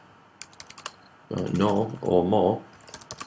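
Fingers tap quick, light keystrokes on a computer keyboard, a scattering of clicks at the start and end, while someone talks over the middle.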